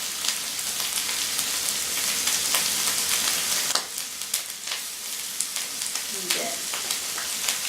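Shrimp fry in a hot pan with a dense, continuous sizzle, loud and close, with a brief stirring clatter and a short spoken word near the end.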